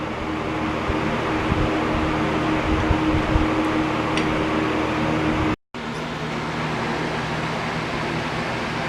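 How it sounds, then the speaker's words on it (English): A large workshop fan drones steadily at close range in a garage during work on a 1977 Yamaha RD400 motorcycle, a constant broadband whoosh with a low hum that cuts out briefly near the end and resumes. "There's what makes this job possible, the giant fan"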